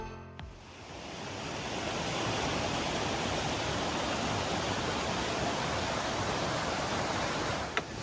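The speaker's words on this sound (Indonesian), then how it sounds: "suara aliran sungai dan jangkrik yang mulai bersahutan" A river rushes steadily nearby, a constant broad hiss of flowing water that swells slightly and then holds even, with crickets chirping.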